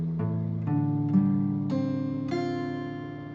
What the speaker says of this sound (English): If this guitar was in perfect P4 tuning, it would sound like this, all open strings